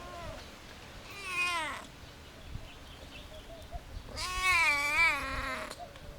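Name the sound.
thin street cat meowing in Aswan, Egypt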